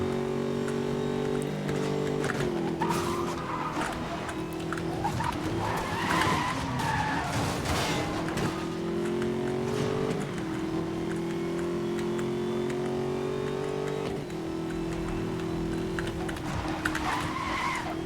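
Bugatti Veyron Super Sport sliding sideways in the 2012 Need for Speed: Most Wanted racing game, with a steady, loud engine drone and shifting pitch under continuous tire skidding and squeal throughout, no talk.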